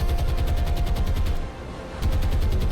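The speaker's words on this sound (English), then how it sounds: "The anti-aircraft gunners on the carrier are pretty good actually." Anti-aircraft guns on an aircraft carrier in the naval game War on the Sea: rapid, dense automatic fire hammering close and loud, a brief gap midway, then the burst resumes.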